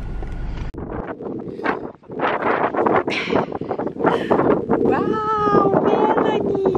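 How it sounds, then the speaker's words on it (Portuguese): Strong gusting wind buffets the microphone on an open building plot, roaring in surges around people talking and exclaiming close by. "Tá ventando muito."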